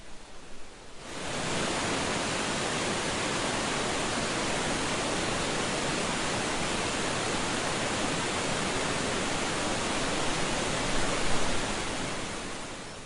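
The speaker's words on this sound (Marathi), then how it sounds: "देशातल्या सर्वात उंच धबधब्यांपैकी एक साताऱ्यातल्या भांबवलीचा धबधबा" Bhambavli waterfall in Satara pours in a loud, steady, broadband roar that swells in after a quiet first second and holds unbroken, close and constant, with no voices.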